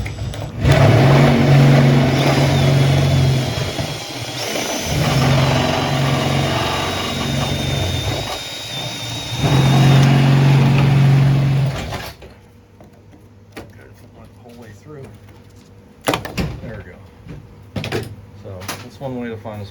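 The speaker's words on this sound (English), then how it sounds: "And we'll take the spot weld cutter." A spot weld cutter drills into the steel bed of a Ford F250 Super Duty truck, a loud, sustained whirring grind in two long bursts with a brief dip between. After it stops, a few sharp clicks and knocks follow, and someone talks.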